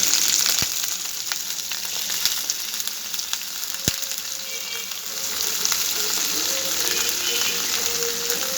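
Dried shrimp (chingri shutki) frying in hot oil, a continuous bright sizzle with a couple of sharp knocks from a wooden spatula, no voices.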